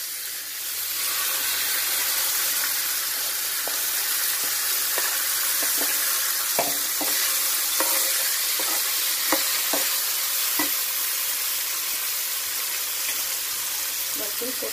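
Chopped ridge gourd and spring onion sizzle in a hot pan for bharit, a loud continuous hiss and crackle with scattered spatula scrapes and taps clicking through the middle as the vegetables are stirred.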